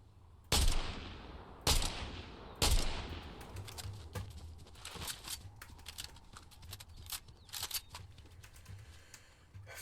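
Three loud, sharp gunshots from a shooter in a hardcore zombie survival video game, followed by a scatter of quieter, more distant shots crackling through the remaining seconds.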